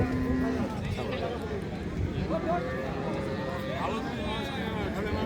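Cattle at a rural livestock market in Bangladesh, including a Friesian cow with calf, moo amid crowd chatter and steady market bustle, with people talking throughout.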